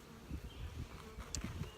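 Honey bees buzz around a newly set up nuc hive, a close, steady hum with individual bees droning past, fairly quiet, with light handling noise.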